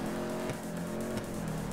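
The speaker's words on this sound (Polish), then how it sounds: "Poślizg." Tires skid and squeal on a car during a street race in GTA V Online, with a steady engine drone running loud and continuous throughout.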